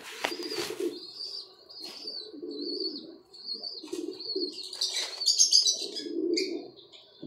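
Pigeons and their chicks kept by a pigeon fancier make repeated low coos alongside thin, high chirps and cheeps, with a few brief wing flutters, close by and steady throughout.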